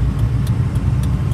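A car with Himachal Pradesh plates drives along a foggy Delhi highway on a winter morning, a steady close engine and road rumble with faint ticking, no voices.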